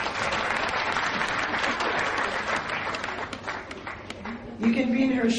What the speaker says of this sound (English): Round of applause for Stephanie,